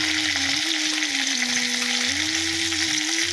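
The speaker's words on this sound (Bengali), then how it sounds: "এখন একটু ভেজে নিই, তারপরে ক্যাপসিকাম" Capsicum frying in a pan with salt and turmeric gives a steady, loud sizzle that runs unbroken for the whole stretch, with faint stirring scrapes underneath and no voices.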